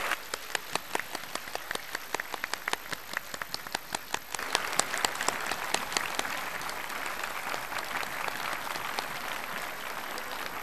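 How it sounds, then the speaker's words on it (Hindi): Children clap loudly at a yoga gathering, starting as distinct, irregular claps and swelling after a few seconds into a dense, sustained round of applause that carries on to the end. "अरे जोर से बजाओ ताली।"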